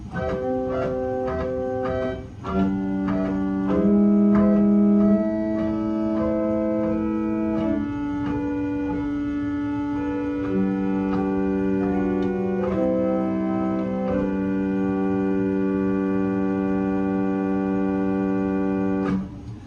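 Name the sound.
pipe organ 8-foot salicional string stop being played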